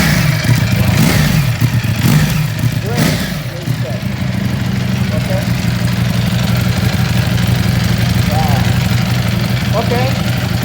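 A Ducati Panigale V4 with an Akrapovic exhaust idling loudly up close, with a few sharp revs early on before settling into a steady rumble, while people talk over it.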